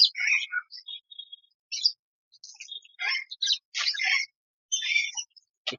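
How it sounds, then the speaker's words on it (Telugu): Sun conure parrots at Warangal zoo give sharp, high chirps and squawks in short irregular bursts with brief silences between, close by and fairly clear. "సన్ కోనూర్ సన్ కోనూర్ చిలుకలు ఇవి."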